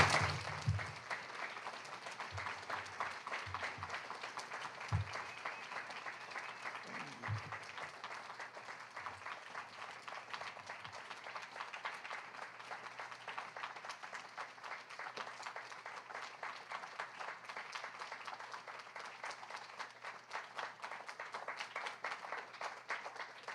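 An audience at a memorial poetry reading applauds the poets, steady sustained clapping from a room of listeners, fairly faint and even throughout, with a few brief low thumps near the start.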